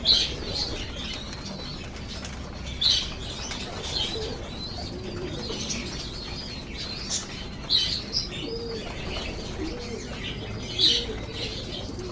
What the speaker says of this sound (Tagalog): ito ang aking pinagkakalibangan dito sa aming bahay. Mag-alaga ng mga kalapate